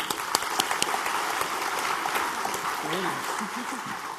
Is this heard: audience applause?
yes